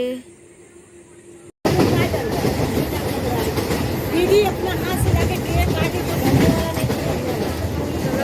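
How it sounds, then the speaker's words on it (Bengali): After a brief quiet moment, a loud rumble of a train running on rails fills the clip, with rhythmic clatter and faint background chatter. "ট্রেনে করে যাচ্ছি"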